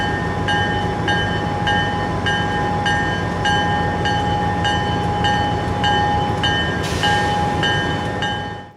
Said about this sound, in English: we caught up with train WAPO departing for Portland, with Snoot Nose SD40-2 number 606 leading and 3403 in the consist as well